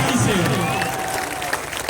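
A big outdoor crowd at a Bihar election rally claps and cheers loudly and continuously, a dense, roaring wash of hands and voices with a few shouts rising above it.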